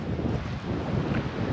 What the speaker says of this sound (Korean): 바람 소리가 엄청나게 들립니다